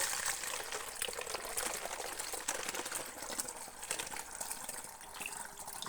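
Water streams through a funnel into a plastic bottle, a continuous gushing, gurgling pour that stays close and fairly steady from start to finish.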